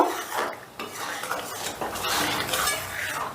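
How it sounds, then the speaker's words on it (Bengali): A spoon stirs salt and sugar into red lentil dal in a pot, giving continuous close scraping and light clinking against the metal with no voices. "এবার নুন আর চিনিটাকে একটু ভালো করে মিশিয়ে নেব"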